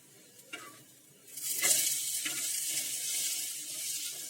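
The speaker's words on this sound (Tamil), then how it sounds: "இப்போ தோசையை திருப்பி போட்டுடலாம்" A green gram adai dosa sizzles loudly on a hot pan after a few soft clatters as it is flipped, and the frying hiss then holds steady and close.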